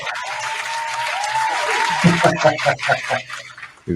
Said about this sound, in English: When you're the person who takes care of pets, you get a big round of applause.